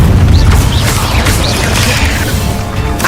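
Incendio fire spell cast in the Hogwarts Legacy video game, a loud whooshing burst of flame with a heavy low rumble that carries through the whole clip, with faint whistling effects layered above.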